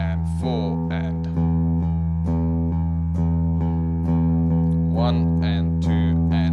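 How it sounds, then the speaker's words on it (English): Electric guitar played with alternate picking, downstrokes and upstrokes in steady eighth notes, a sustained chord ringing clearly with rhythmic pick attacks, up close and alone. "after every downstroke, I'm going to play an upstroke as well."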